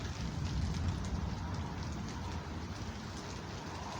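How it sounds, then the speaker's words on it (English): Steady rain falls during a severe thunderstorm in Byram, Mississippi, a dense, continuous hiss of drops on surfaces that stays fairly even and close throughout, with no voices. "This rain is just on and off."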